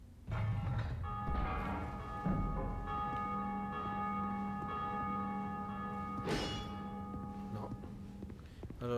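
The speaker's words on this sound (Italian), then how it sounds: "ho suonato delle campane" Church bells in Dark Souls 2 ring out with sustained, overlapping metallic tones and a few sharper strikes, their ringing lingering over a faint mechanical background.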